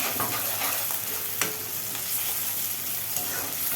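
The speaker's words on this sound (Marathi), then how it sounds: "टोमॅटो पण चांगला भाजून घ्यायचा तेलामध्ये" Tomatoes roasting in hot oil in a pan give a continuous soft sizzle, with light stirring and one sharper clack partway through.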